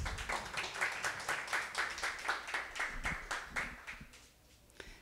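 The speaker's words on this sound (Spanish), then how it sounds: "Sí, por favor, aplausos" Applause from a seminar audience for four group moderators at a migration conference session: a steady patter of many hands clapping, moderately close, tapering off toward the end with a few last claps.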